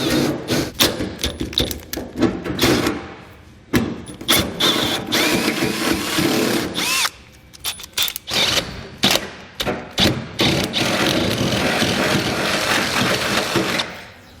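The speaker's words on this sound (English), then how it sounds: "I'm going to come back with an 11/16 drill bit and enlarge them to the final size." A power drill with an 11/16-inch bit enlarges pilot holes for a B and W Companion 5th wheel trailer hitch underbed kit, grinding and chattering loudly in repeated bursts with brief pauses between them.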